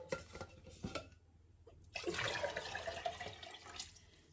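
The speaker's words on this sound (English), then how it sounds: "Here's our water back in the jug." Water is poured back into a jug, with a few light clinks before a steady, close splashing pour begins and runs to the end.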